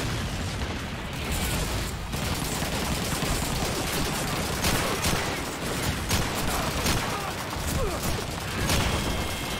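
Gunfire rattles on nearly without pause in Call of Duty 2, fully automatic weapons firing in loud, dense bursts with scattered pops and blasts.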